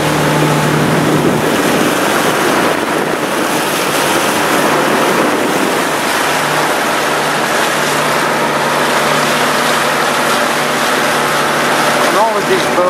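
Constant engine drone of a tour boat on open sea among Palawan islands, Philippines, with wind and splashing waves around it, steady and loud for the whole stretch.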